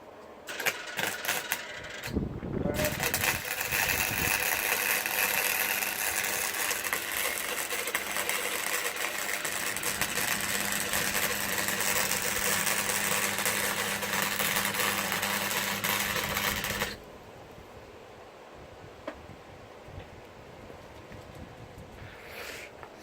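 A welder joins metal, a loud continuous crackling hiss that begins after a brief start-up and holds steady for about fifteen seconds with a low hum beneath, then stops abruptly, leaving quieter background noise.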